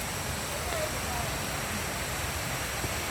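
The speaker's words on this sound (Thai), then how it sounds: "จะมีน้ำตกอีกข้างหน้านะคะ เสียงซาซา" Rushing waterfall on a mountain stream during a forest hike, a steady broadband roar of falling water filling the scene without pause, fairly loud and constant, with no voices.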